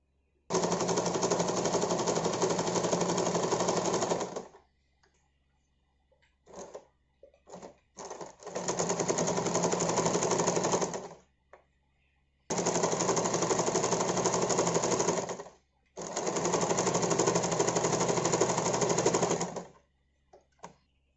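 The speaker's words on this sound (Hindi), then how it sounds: "इसे उल्टे साइड से इधर से सिलाई और इधर से सिलाई, इधर से सिलाई, ये पूरा मैं सिलाई करूंगी" A sewing machine stitches face mask fabric in long continuous runs of fast, steady whirring, several seconds each, separated by short pauses and brief stop-start bursts.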